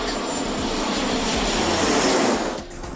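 Airplane cabin during a flight from Tokyo to Kyushu, a loud, steady broadband engine roar that stays constant for about three seconds, then dips slightly at the end.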